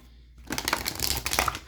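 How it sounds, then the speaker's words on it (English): Oracle cards are shuffled by hand at close range during a tarot-style reading, giving a quick run of crisp papery riffling and slapping ticks that starts after a short silence and continues steadily. "Even though I always shuffle these cards off camera, I just shuffle them on camera just so y'all can see."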